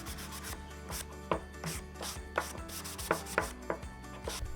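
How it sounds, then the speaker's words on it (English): Hand sanding of small wooden dresser legs with a 220 grit sanding block, a steady close scratchy rubbing in repeated back-and-forth strokes with occasional harder scrapes, no voices. "I like to use a sanding block for the legs because they're smaller"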